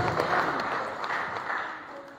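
A church congregation applauding during a sermon, a sustained wash of crowd clapping that sounds somewhat distant and fades slightly toward the end.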